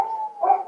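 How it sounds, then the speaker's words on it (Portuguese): A dog gives a short, nasal bark or whine that stays tonal and rises slightly near its end, heard close and alone in a brief burst. "Deu a louca dos cachorros."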